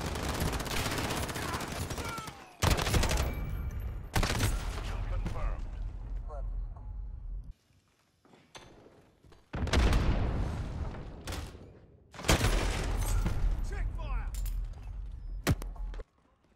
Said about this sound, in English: Yeah, submachine gun